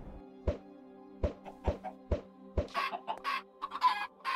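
A Minecraft chicken clucks in a hard survival multiplayer game, a string of sharp, evenly spaced blocky clucks followed by a denser burst of higher squawking calls, clear and close against a quiet background.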